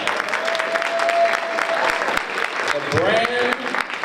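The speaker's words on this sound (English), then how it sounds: "let's give her a round of applause." Steady audience applause, a room full of clapping that keeps going for several seconds, with a voice briefly rising over it near the end.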